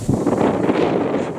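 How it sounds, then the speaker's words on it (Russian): Strong wind buffets the microphone outdoors in Astrakhan during a pigeon flight, a steady loud roar with rustling gusts that continues throughout without letup. "Ветер сильный."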